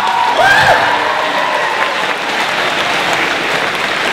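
A school audience at a high school talk breaks into dense, steady applause that holds for several seconds, with a brief vocal cheer or whoop near the start.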